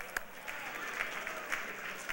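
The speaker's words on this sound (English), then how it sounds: "round of applause" Brief, moderately quiet applause from an audience at a public affairs gathering, a steady patter of clapping with a few sharper claps standing out.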